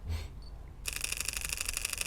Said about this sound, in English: That's slow, very quiet shutter.